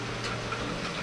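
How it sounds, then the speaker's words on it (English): Rain falling on and around a parked van, a steady soft patter with scattered light ticks of drops, close and continuous over a low constant hum. "Well, it started raining."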